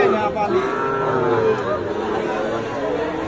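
Sahiwal cattle low and moo at a busy livestock market, a loud close call standing over a constant murmur of crowd chatter.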